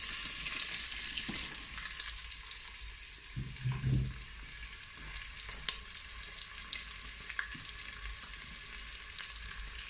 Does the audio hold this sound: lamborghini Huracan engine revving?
no